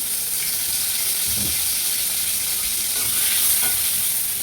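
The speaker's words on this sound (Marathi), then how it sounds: "आता मी टोमॅटोही भाजून घेणार आहे. आणि यावरतीही तेल टाकून घेणार आहे." Tomatoes fry in oil in a pan for misal, giving a loud, steady sizzle close by with a few stirring scrapes and no voices.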